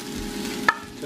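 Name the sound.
rice added and stirred into frying broccoli and garlic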